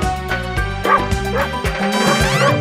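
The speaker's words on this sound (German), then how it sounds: "Da laufen viele Hunde rum, E-I-E-I-O. Mit Wuff Wuff hier und Wuff Wuff dort" Dog barks from a farm scene in a German version of the children's song Old MacDonald, set over bright, continuous music.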